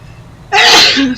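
A single loud, close sneeze bursts out about halfway through after near silence, sharp and breathy with a short tail.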